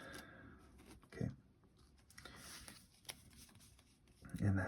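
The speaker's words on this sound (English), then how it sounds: "Don't shuffle it too much." A deck of Magic: The Gathering cards is shuffled by hand in soft, brief riffling bursts while a person talks quietly nearby.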